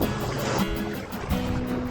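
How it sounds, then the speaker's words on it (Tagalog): Strong sea waves off an island fishing spot surge and wash loudly and close, a continuous rough rush of water with no talking. "Medyo malakas nga lang yung alon dito sa spot namin."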